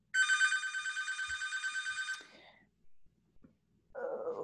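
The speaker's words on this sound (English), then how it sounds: "Sorry about the phone ringing." A telephone rings during a scientific seminar with a bright, rapidly pulsing electronic trill for about two seconds, then stops. A few faint room noises follow before a brief lower tone at the end.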